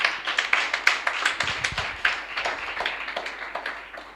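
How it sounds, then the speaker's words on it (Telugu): A church congregation claps hands together in a fast, steady rhythm, dense and fairly close, with no talk over it. "చప్పట్లు కొట్టాలి ఇప్పుడు అందరూ."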